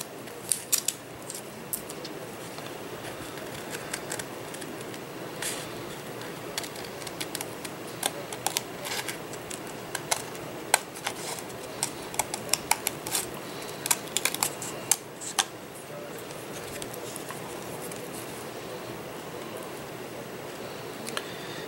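Scissors trimming paper coated with mineral mica flakes, a run of close, crisp snips and crunchy cuts in irregular bursts, louder clusters in the middle, with faint background hiss and no talking.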